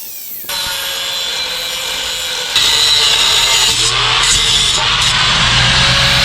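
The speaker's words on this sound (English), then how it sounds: "Let's cut this part so we can weld it into the end of here." A power saw cuts through the exhaust pipe of a lowered Nissan D21 Hardbody pickup, starting abruptly and then grinding steadily and loudly up close, its pitch shifting as the blade bites deeper, with no talking.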